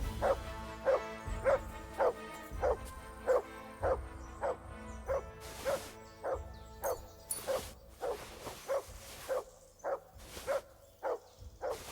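A dog in the video game Kingdom Come: Deliverance 2 barks in a steady, evenly spaced series of about twenty sharp woofs, moderately close, with faint background ambience between barks.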